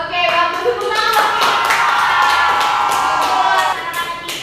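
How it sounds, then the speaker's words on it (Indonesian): A classroom of children claps hands together, a dense, loud burst of rapid applause lasting several seconds before tapering off. "Tepuk tangan"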